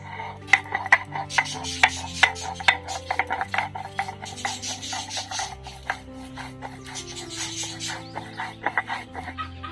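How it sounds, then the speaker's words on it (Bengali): Ginger is ground into paste on a grinding stone, rhythmic scraping and rasping strokes of stone on stone, close and moderately loud, repeating steadily with small knocks between them. "এবার আমি আদাটা বেটে নিচ্ছি।"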